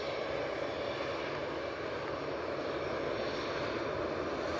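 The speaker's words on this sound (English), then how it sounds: "Got the SAS coming over in the old livery." An SAS airliner in old livery passing over Manchester Airport, a steady broadband engine roar held at an even level throughout with no voices.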